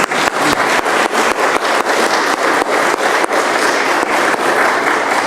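An audience applauds steadily, a dense wash of many hands clapping at a constant loud level throughout, with no voices.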